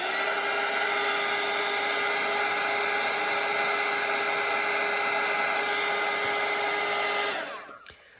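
Hair dryer blowing on a watercolour painting, a steady close whine and rushing airflow that runs for about seven seconds before switching off and winding down.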